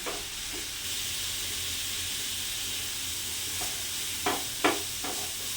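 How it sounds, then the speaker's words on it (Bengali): Bottle gourd peel fries in a pan over gas heat that is raised and lowered, making an even, hissing sizzle with a few sharp stirring scrapes toward the end. "এবারে আমি এইটা বাড়িয়ে কমিয়ে লাউয়ের খোসাটাকে ভাজতে থাকলাম"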